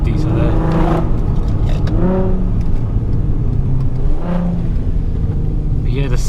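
A VW Golf R32 with a DSG gearbox and four-wheel drive revs its engine up and down in repeated swells over a steady loud rumble, close by, with someone talking briefly alongside.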